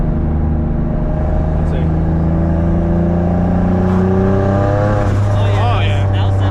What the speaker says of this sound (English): I'm barely giving it throttle right now, and it's super loud.